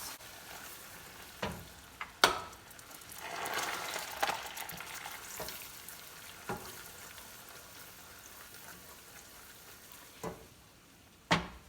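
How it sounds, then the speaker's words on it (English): Butter melts in a hot sugar mixture on the stove with a soft, steady sizzle, while scattered clicks and knocks of utensils against the pan sound throughout. "now we are adding 12 tablespoons of butter to our sugar mixture"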